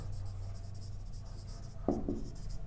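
Chalk or marker writing equations on a classroom board gives a continuous faint scratching with a few sharper taps near the end, heard alone at close range.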